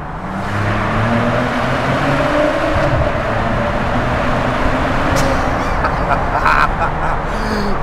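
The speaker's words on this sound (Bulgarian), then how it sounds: "Това наистина е звука на Мазерати." A Maserati Ghibli sports sedan with a 410-horsepower engine accelerates hard with the windows down, producing a loud, steady, throaty engine roar that fills the whole stretch without a break.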